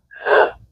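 A voice imitates a child's grunting breath in respiratory distress from RSV: one short, close, breathy push of air that swells and fades in under a second.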